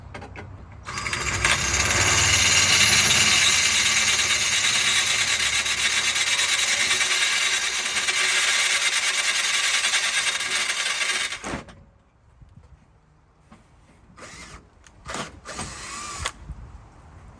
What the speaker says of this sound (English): get this big 1/2-inch drill bit back up in there. So we'll do small increments. It is stainless steel